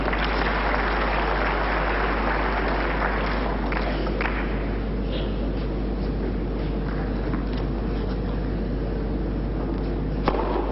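Applause from the crowd at a 1996 Basel indoor tennis final between Sampras and Dreckmann, sustained and steady across the clip over a dense hall ambience, with no talk on top.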